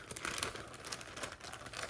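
Steady crinkling and rustling of a plastic bag stuffed with random fabric scraps as it is handled up close, continuous crackly texture throughout with no talk.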